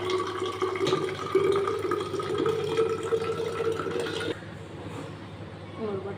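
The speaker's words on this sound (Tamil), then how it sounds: "இன்னும் கொஞ்சம் தண்ணி பிடிச்சி போட்டுருவேன்." Tap water runs steadily into a container holding squeezed lemon juice for homemade lemonade, a continuous trickle that stops abruptly partway through, followed by faint kitchen clatter.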